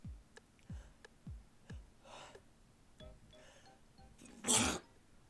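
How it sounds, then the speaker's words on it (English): A person's sneeze bursts out loudly near the end, with a broad noisy blast, after a few quieter breaths and faint sniffs. "Oh, I feel a sneeze coming on."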